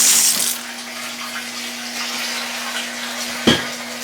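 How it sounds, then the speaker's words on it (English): Clear water runs steadily through a lidded container being rinsed out after washing, a continuous close hiss of flowing water with a brief louder splash near the end. "now we run clear water through it"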